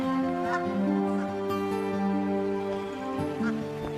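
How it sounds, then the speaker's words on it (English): Migrating water birds, geese and ducks, honk loudly and continuously in a dense flock, overlapping calls near and far with no pauses. "Water birds, soon to depart for warmer havens, are briefly abundant"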